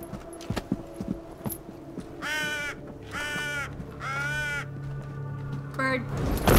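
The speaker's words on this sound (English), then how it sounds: "Bird." A crow caws three times in Assassin's Creed Valhalla, harsh and fairly close, spaced about a second apart over a quiet outdoor ambience with faint clattering and a low hum.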